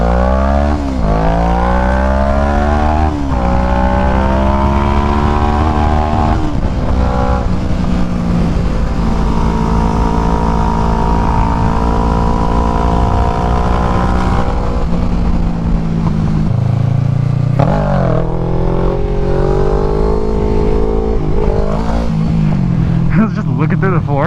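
A motorcycle engine revs and surges continuously while the rider pulls wheelies, pitch climbing and dropping through gear changes, loud and close, with wind buffeting throughout.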